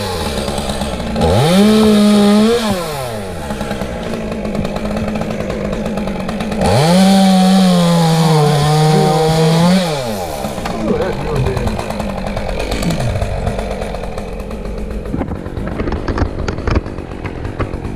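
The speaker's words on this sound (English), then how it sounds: "All right, saw secured. Ready to make a first cut here in a second." A chainsaw cuts into a big, very dead tree, revving up in two long high-pitched bursts with idling between, loud and close, then winding down to crackling wood and rustle.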